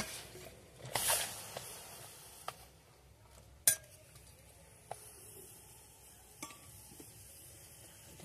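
Kochur loti (taro stolons) being stirred in a cooking pot, with soft scraping and a few sharp clinks of a utensil against the pot over a faint sizzle.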